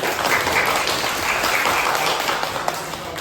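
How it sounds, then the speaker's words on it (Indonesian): A class of students applauds together in a classroom, a loud, close burst of dense clapping that holds steady, with no talking. "Tepuk tangan untuk semua dong."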